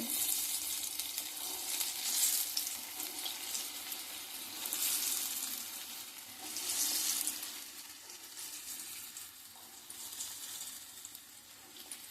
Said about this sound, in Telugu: మిగతా పిండి కూడా కునుకులు వేసేసుకుందామండి